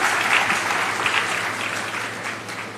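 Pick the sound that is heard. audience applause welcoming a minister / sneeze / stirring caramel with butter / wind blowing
audience applause welcoming a minister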